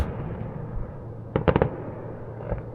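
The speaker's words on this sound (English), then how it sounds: "There's that firework display behind us." A quick cluster of distant popping bangs from a fireworks display near Mostyn Dock, followed by a fainter pair of pops, over a quiet outdoor background.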